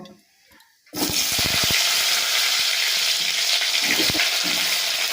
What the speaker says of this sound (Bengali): আলুটা ভালো করে একটু ভেজে নিই